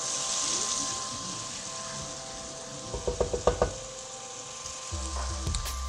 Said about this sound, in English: We need it to fry a bit